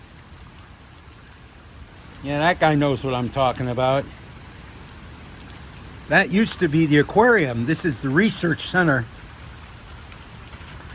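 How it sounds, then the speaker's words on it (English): Steady rain falls around a beach gazebo, a constant soft hiss that carries through the whole stretch, while someone talks over it in two bursts. "I have ducked into their gazebo to wait out the rain."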